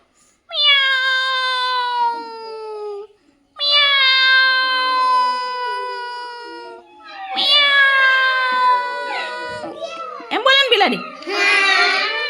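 A voice imitates a cat, giving several long, drawn-out meows one after another, ending in a few shorter, higher squealing cries.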